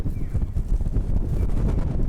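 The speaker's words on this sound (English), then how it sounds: "It's so windy." Gusty wind on a street walk in Sendai, Japan buffets the microphone, producing a steady low rumble and muffled thumps throughout, with no voices.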